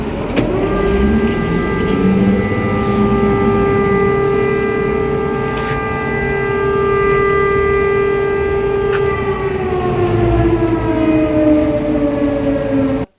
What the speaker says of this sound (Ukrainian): Як тільки ми вийшли з таксі, почалась повітряна тривога.